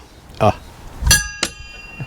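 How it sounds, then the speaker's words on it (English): A bright metallic ship's bell aboard a Contessa 26 sailboat is struck once and rings out, its tone lingering amid a few thuds and clanks, with speech nearby. "Ship's bell."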